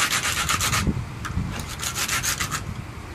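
A PVC pipe is rubbed hard against rough cement to scuff its surface, making rapid bursts of gritty scraping strokes up close, with short pauses between rounds.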